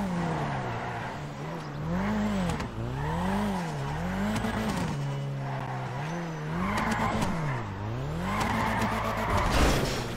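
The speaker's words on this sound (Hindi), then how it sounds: "इस गाड़ी को ड्रिफ्ट करना आसान नहीं है" A Nissan Skyline GT-R R34 drifting in GTA 5, its engine wailing up and down in repeated revving sweeps while the tires squeal continuously, loud and close throughout.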